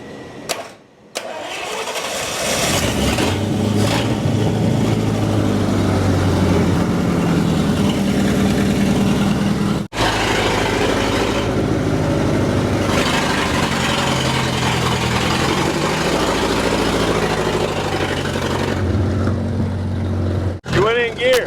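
A 1939 Buick engine, sitting unused for 66 years, cranks and fires up, then runs loud and rough at close range with uneven revving, cutting briefly before continuing, while people talk nearby.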